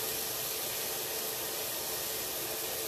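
Continuous sizzling hiss of onions frying in a hot pan, steady and close with no pauses or voices.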